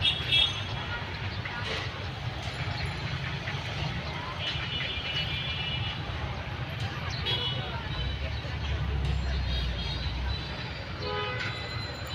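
Trains run past a railway level crossing beside an airport in Uttara sector four, a sustained rolling rumble and clatter of wagons with short horn toots, mixed with people talking nearby.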